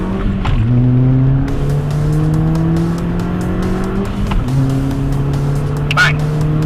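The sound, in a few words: Audi TT accelerating during timed road test run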